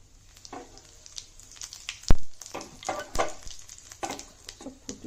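Panch phoron and dried red chillies spluttering in hot oil for a pumpkin fry, a crackling sizzle close by with a sharp pop near the middle and scattered spits, no talk.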